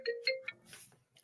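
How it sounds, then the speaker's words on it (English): A phone ringing during a reading event, sounding as a short electronic tonal chime of a few bright notes, then fading to quiet. "That was a phone."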